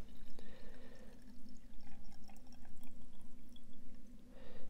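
Water pouring into the clean water reservoir of a Bissell Pet Stain Eraser PowerBrush, a steady trickling fill with small splashy drips, fairly close and alone.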